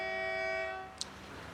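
A loud, sustained train horn blares for over half a second at New Jalpaiguri station, then cuts off, leaving quieter rumbling and a brief sharp click.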